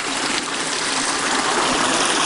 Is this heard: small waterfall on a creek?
yes